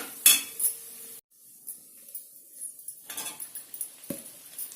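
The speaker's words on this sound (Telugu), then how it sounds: "ఇది వేసుకొని ఇడ్లీలు నలిగిపోకుండా ఈ తాలింపు అంతా వీటికి పట్టాలి నెమ్మదిగా కలుపుకోండి" Cut idlis are stirred into tempering in a pan: a few sharp metal clinks of a spoon against the pan, then quieter scraping and soft tapping with faint sizzle.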